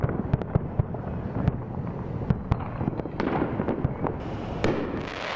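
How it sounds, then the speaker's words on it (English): Fireworks bursting in a rapid, irregular string of sharp cracks and pops over a rumbling, crackling background, loud and continuous, with no voices. "The sound of fireworks, very scary for pets."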